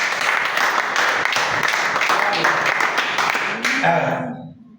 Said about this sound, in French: Si vous avez compris, acclamez le Seigneur